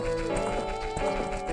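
A horse gallops in Zelda Master Quest 3D, rapid rhythmic hoofbeats running continuously and loudly over dense game music, with an occasional whinny.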